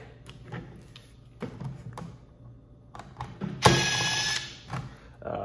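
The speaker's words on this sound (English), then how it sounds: "Bought it because it's one of the shortest impact drivers on the market." A DeWalt 20 volt Atomic impact driver, one of the shortest on the market, fires a single loud, near burst of about a second after some quiet handling clatter and fumbling, then trails off into light rattling.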